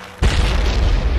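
A C4 explosive detonates in the video game Happy Wheels, one sudden loud, close blast with a deep rumbling tail and no talk over it.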